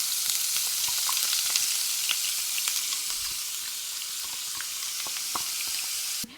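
Cumin seeds fry in hot oil in a pan, a loud continuous close sizzle with scattered small pops and crackles throughout, cutting off abruptly at the end.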